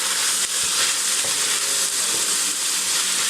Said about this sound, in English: Stir up the meat one more time